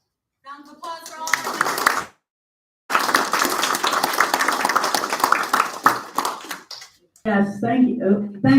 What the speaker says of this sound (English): Round of applause for all.